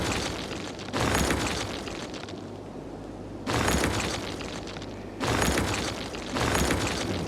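Buildings collapsing in Cities: Skylines, a series of loud rumbling demolition bursts, each a heavy crash that trails off before the next begins, four in quick succession with no talking.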